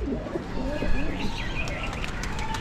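A pet pigeon coos on a rooftop in a few soft, low phrases, mixed with brief higher chirps and faint background noise.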